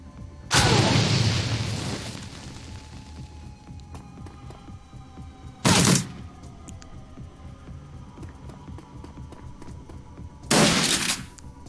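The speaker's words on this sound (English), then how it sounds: "actually just throw a grenade at them" Frag grenade blasts in the video game Shadowrun: Dragonfall, three loud booming bursts spaced apart, the first longer and rumbling, over a low steady background hum.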